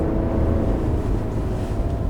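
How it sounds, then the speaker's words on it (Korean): A steady whine and low hum from the turbo fan of a Ford Explorer 2.3 turbo, heard while coasting without throttle, constant and droning beneath road noise with no talking. "악셀 안 밟아도 저 혼자 왱 이게 팬 도는 소리."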